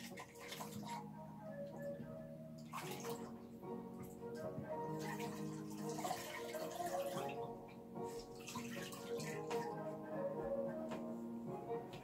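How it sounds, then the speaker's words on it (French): A washcloth is rinsed under a running tap, giving a steady stream of splashing water with occasional drips. It is continuous and close, over a faint tonal background. "On va rincer la débarbouillette pour faire un dernier bon nettoyage."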